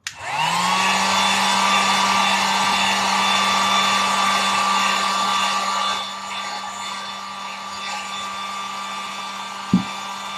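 A hair dryer switches on and blows steadily and loudly at close range with a constant whine, eases slightly near the end, and is followed by a brief knock.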